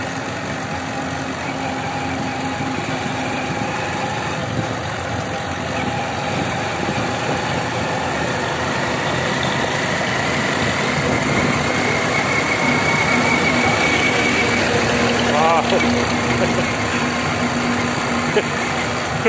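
Heavy truck engines rumble steadily through dense fog in heavy traffic, a continuous broad drone with a low idling hum that swells slightly toward the end, close by and unbroken.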